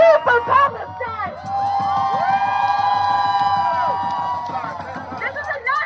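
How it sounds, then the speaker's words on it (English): A pro-Palestine protest crowd rallies in Los Angeles, massed voices rising into a loud, sustained shout and cheer through the middle, with a single voice speaking briefly before and after. "And all chant that we are here for Palestine."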